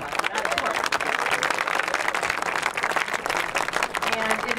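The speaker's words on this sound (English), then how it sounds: "Yes, you can clap for that, of course." At a halftime show event on a university campus, a large audience claps and cheers in a dense, loud, sustained burst of applause that fills the whole stretch.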